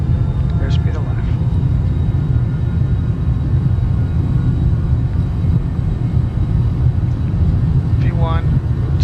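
A Cessna Citation Sovereign+ business jet accelerating down the runway in a flight simulator, with a loud, steady low engine roar and rolling rumble throughout, with brief faint tones near the start and end.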